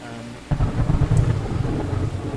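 Rain and thunder in the video game Choo Choo Charles: a steady, loud downpour with low, rolling thunder that swells in about half a second in and keeps rumbling to the end.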